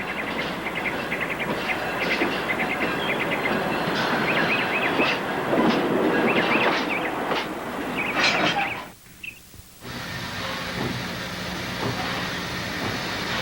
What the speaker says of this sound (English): The train ties onto a couple of boxcars and a caboose, making this a mixed out of Cranberry.